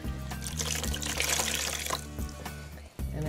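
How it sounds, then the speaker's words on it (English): Hot water runs from a tap as a small wet-felted wool fiber square is soaked and rinsed of soap, a loud, steady splashing flow that cuts off briefly near the end before resuming. "I'm gonna soak it in some hot water now and do a little rinse on the soap."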